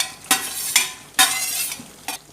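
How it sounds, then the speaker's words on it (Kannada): Mushrooms frying in a pan, heard as a close hiss of sizzling broken by a few sharp bursts of spatula stirring. "ಫ್ರೈ ಮಾಡ್ತೀನಿ ಮಶ್ರೂಮ್."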